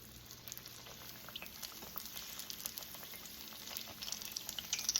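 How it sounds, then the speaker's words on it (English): Shrimp egg rolls frying in a pan over medium-high heat, a soft steady bubbling hiss with scattered crackles that grows a little louder toward the end, close but fairly quiet and without talk. "I'm ready to fry my egg rolls"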